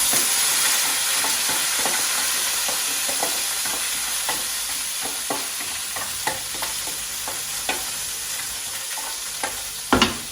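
Washed rice fries in a hot pan with a loud, continuous hiss, while a utensil stirs it in regular light scrapes and taps, ending with a brief clatter.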